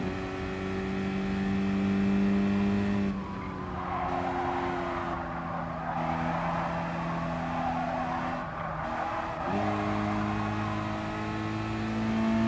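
A race car's engine in the GT Sport video game holds a loud, steady, buzzing drone, broken midway by several seconds of tire-scrub noise through the final bend before the engine tone settles back.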